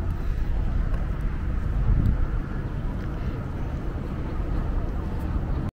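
Strong outdoor wind gusts buffet the microphone in the open grounds of the Federal Territory Mosque in Kuala Lumpur, a continuous loud low rumble that holds steady throughout.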